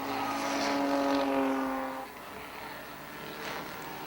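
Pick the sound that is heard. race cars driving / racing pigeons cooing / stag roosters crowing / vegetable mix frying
race cars driving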